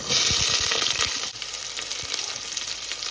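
Chopped onions dropped into hot oil with mustard and fennel seeds: a burst of crackling, spattering sizzle that eases after about a second into a softer, continuous frying hiss.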